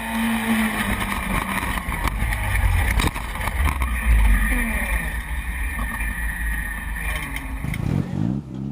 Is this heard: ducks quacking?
no